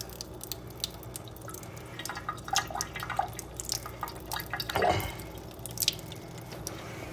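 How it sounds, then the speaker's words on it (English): Soaking water is drained off matzo in a kitchen, a quiet sequence of scattered drips and small trickling splashes with one fuller splash partway through. "then you drain out the water"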